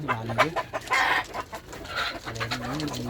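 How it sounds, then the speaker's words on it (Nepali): Improved Sonali breed roosters cluck and murmur close by in short, throaty bursts, with a brief louder squawk midway. "यहाँ हेर्नु भालेहरू कति राम्रो भालेहरू छ"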